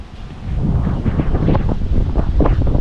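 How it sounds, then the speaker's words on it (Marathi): Strong wind buffets the microphone in low rumbling gusts, loud and continuous outdoors. "हवा पण बघा एकदम मस्त वारा आज मस्त सुटलाय बघा"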